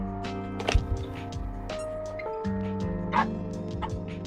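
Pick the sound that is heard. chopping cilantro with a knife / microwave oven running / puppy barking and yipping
puppy barking and yipping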